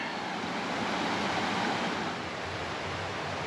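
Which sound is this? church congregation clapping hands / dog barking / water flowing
water flowing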